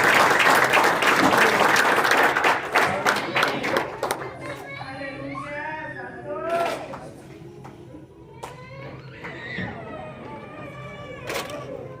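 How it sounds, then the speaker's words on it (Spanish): A church congregation breaks into loud, dense applause after a sermon. The clapping lasts about four seconds, then thins out as voices and murmuring take over. "Un fuerte aplauso."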